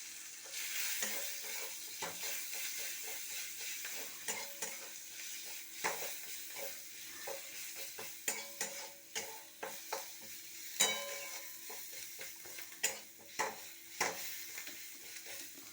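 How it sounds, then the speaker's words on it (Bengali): Onion fries in a pan with turmeric, hissing softly and steadily while a spoon scrapes and taps the pan in irregular stirring strokes, faint and close. "পেঁয়াজটা একটু ভাজা ভাজা হবে।"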